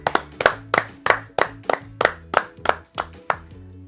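An audience at a children's Easter quiz gathering claps together in a steady rhythmic beat, about three claps per second, sounding close and fairly loud against a faint musical hum.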